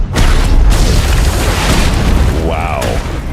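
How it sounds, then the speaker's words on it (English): Point defense cannons fire in a sci-fi space battle from The Expanse, a loud, sustained booming roar of rapid blasts that fills the scene, with a brief whine and a voice rising near the end. "She's using the point defense cannons."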